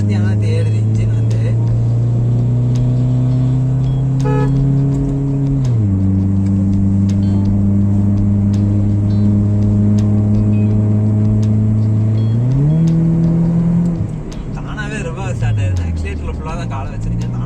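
A modified, stage-tuned Hyundai i10 drives along, its engine and aftermarket silencer giving a loud, steady drone that climbs in pitch through two gear changes before easing off near the end.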